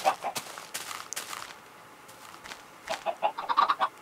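Chickens cluck in short, choppy bursts, a scattered group nearby, with a livelier run of clucks toward the end, in Minecraft.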